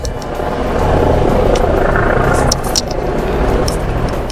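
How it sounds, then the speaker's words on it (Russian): A loud, steady rescue helicopter drone hums continuously overhead near the sea in Ireland, a broad mechanical roar with faint distant chirps above it. "Вот, наверное, слышно на камеру вертолетик."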